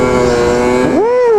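A snowmobile engine revs hard in fresh powder snow after a storm while climbing a hill, with a loud close engine tone that climbs sharply in pitch partway through the short burst.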